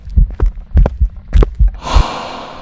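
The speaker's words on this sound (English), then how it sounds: "I don't think the heartbeat noise is that bad" A loud, steady thumping heartbeat plays in the Phasmophobia ghost-hunting game, with paired throbbing beats repeating about every half second before a burst of hiss takes over near the end.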